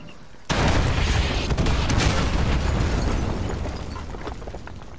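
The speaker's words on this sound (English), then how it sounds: "Fire mission received. Artillery inbound." An artillery strike in the game Call of Duty: Modern Warfare 2 erupts suddenly into a loud, roaring explosion barrage with rumbling blasts and debris that slowly fades over several seconds.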